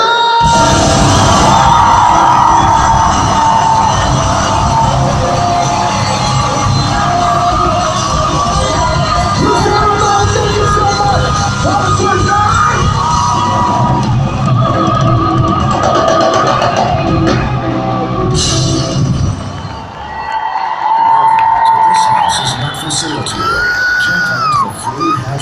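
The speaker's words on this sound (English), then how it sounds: "I wanna see everybody scream their heads off" A huge concert crowd in Los Angeles screams and cheers continuously for about twenty seconds, a dense roar of whoops and yells that dips briefly and then surges again.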